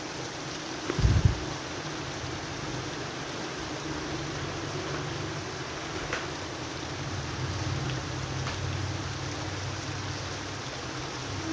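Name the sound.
steady rain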